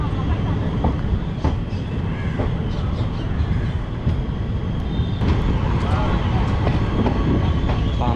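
Boat Mail Express train rolling at Pamban bridge, a loud continuous rumble of wheels and carriages with rhythmic clicks, crows cawing faintly in the distance.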